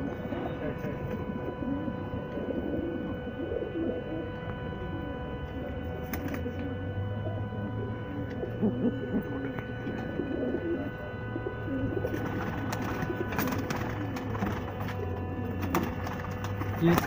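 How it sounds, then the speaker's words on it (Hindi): Domestic pigeons kept by a fancier, soft low cooing repeated through the scene, moderately near, with people talking over it and brief clatter and rustling. "यहाँ पे कबूतर परिंद है, सारे कबूतर परदार हैं।"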